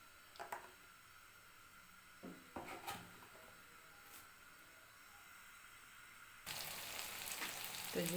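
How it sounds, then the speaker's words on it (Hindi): Potato tikki patties go into hot oil in a pan on the stove. A few faint kitchen clicks and knocks come first, then a louder, hissing sizzle rises at the end. "अब तकरीबन 2 मिनट एक साइड से फ्राई करेंगे और 2 मिनट एक साइड से।"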